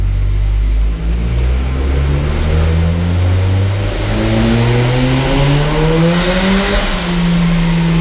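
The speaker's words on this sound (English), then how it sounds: "I'm literally just going to run it up on the dyno." Turbo van engine on a dyno, loud and close, revving in long rising sweeps as it is run up through the gears, with a brief dip near the start and no talk.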